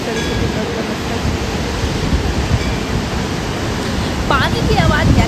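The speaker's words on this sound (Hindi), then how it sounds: "पानी की आवाज़ यानी धारा की आवाज़ इतनी आपको तेज देखने सुने।" Rushing water of the Saraswati river near Badrinath, a steady loud broadband roar filling the whole clip, with faint birdlike chirps near the end.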